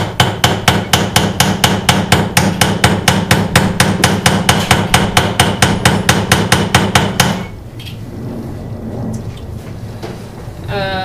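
A riveting hammer strikes metal in rapid, steady blows that ring out for about seven seconds in a rhythmic series, then stop, leaving quiet room noise.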